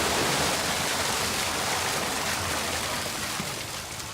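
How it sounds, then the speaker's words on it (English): Water gushes in a steady, broad roaring rush as a canal lock at Foxton Locks fills. The flow is continuous and fairly close, easing only slightly over a few seconds. "You can hear the water gushing in now. It's gradually filling up."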